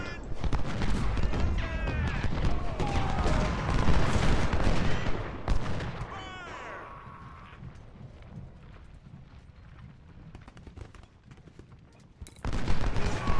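Artillery and musket fire in the Civil War strategy game Ultimate General: Civil War at Gettysburg: dense overlapping booms and crackling volleys, thinning to a quieter rumble before another loud burst at the end.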